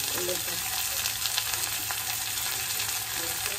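Carrots, spring onion, bell peppers and peas stir-fried together in a pan for fried rice, giving a loud, continuous close sizzle with light stirring scrapes and no talking.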